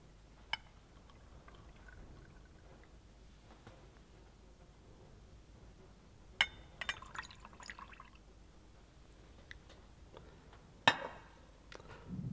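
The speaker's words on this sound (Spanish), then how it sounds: "Y observaremos cómo sale el agua por este tubo." Water running out through a tube in a bottle, poured in with a funnel, producing faint, sparse drips and trickles with occasional louder splashes in a quiet room.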